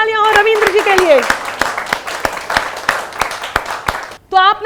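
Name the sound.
audience applause for a poet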